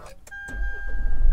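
A Mitsubishi Pajero Sport engine cranks and catches after a push-button start, with a short click and a steady tone just before the low idle rumble swells and holds close by.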